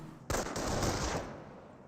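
An MG42 machine gun opens fire in Company of Heroes, a short sudden burst of rapid automatic shots that starts abruptly, rattles for about a second and trails off into a fading echo, alone without speech.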